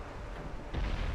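Naval shellfire in the warship game Ultimate Admiral Dreadnoughts, Japan 1910 campaign: a low, muffled boom swells partway through over a rumbling background.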